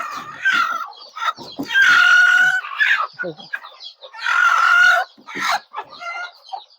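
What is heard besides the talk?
chickens clucking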